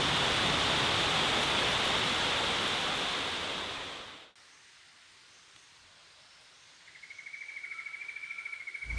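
Heavy rainwater pours down like a waterfall past a vegetable garden into a valley, a loud steady rushing that cuts off abruptly, leaving quiet with a faint insect-like buzzing afterward.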